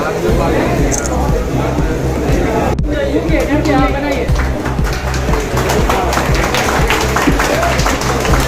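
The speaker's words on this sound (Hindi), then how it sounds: "जोरदार ताली" A crowd applauds to welcome a visiting minister at a public reception in Katihar or Purnia, with steady clapping blending into loud chatter and babble throughout.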